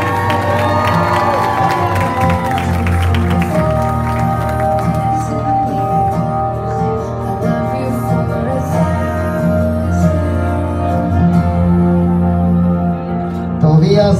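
Crowd at a quinceañera party clapping and cheering in a steady, loud wash of applause that carries on throughout, with a DJ's voice and music under it.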